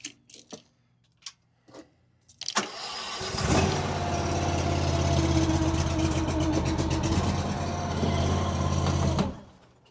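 A Huayee LHY480 mini skid steer engine cranks with a few sputters, catches and runs at a steady, fairly loud chugging idle for several seconds, then cuts off.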